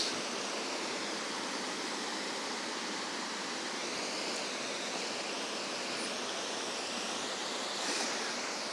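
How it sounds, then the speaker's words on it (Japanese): Rapid current of the Takano River in Kyoto rushes in a steady, dense broadband roar, close and continuous with no talk over it. "やっぱり流れが急流なんでしょうね。"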